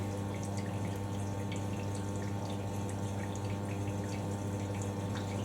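A Hoover A3060 Electronic 1100 washing machine draws water through its hot feed: a faint, steady trickle and hiss of inflowing water over a low constant hum, with no voices.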